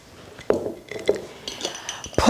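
A pan sits on the stove with quinoa seeds and a little coconut oil. Scattered clinks and knocks of cookware sound up close, with sharp taps and a soft shuffle between them.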